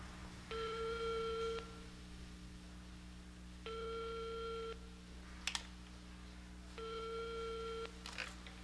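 Telephone ringing unanswered in a 1989 Korean TV drama, three long harmonic rings separated by pauses over a steady low hum, with a couple of faint clicks between rings and no voices.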